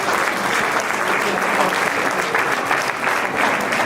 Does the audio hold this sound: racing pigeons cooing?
no